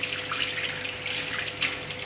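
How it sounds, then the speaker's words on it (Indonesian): Water runs steadily from a tap turned on with the elbow during a handwashing routine in a clinical skill lab, a continuous close splashing hiss into the sink with no talking. "kita hidupkan air keran dengan siku-siku"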